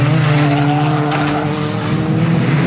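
Teen Street Banger racing cars roar loudly and continuously around an oval track, engines droning at high revs, while the cars crash and bump into one another, with no voices heard.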